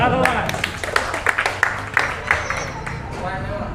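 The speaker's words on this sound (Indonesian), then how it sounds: "bayar tepuk tangan dulu" Scattered hand clapping from a small group at a family reunion gathering, with distinct claps over a muffled room, and talk running through it.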